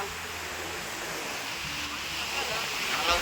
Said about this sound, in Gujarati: અંદર જોઈએ તો આપણે ચક્કર આવે એટલું પાણી જાય.